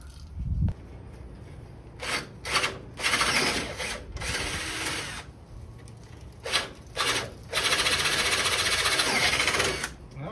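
A power drill fitted with a titanium bit bores holes in bursts, whining loudly for a second or two at a time, then stopping, with quiet gaps between runs.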